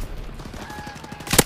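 A De Lisle sniper rifle fires once in a first-person shooter, a sharp loud crack landing at the very end after a brief stretch of quieter game noise and faint talk.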